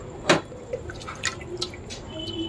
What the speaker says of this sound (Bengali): এবারে এর মধ্যে একটু উষ্ণ গরম জল দিয়ে দেব।